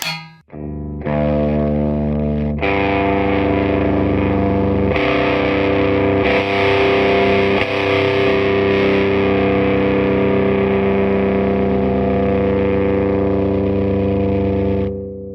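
An electric guitar plays sustained, heavily overdriven chords through a tube amp with a negative feedback circuit, loud and continuous with a thick distorted tone and no voices.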